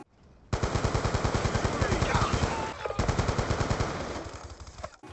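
Rapid bursts of AN-94 rifle fire from a Call of Duty game crackle in a fast, punchy rhythm, two long volleys split by a brief pause, loud and close.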